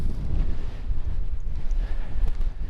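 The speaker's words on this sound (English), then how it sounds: "I'm not sure how much wind you're getting." Wind buffeting the microphone on the hilltop at East Lomond, a constant low roaring rumble with gusty fluctuations and no voices.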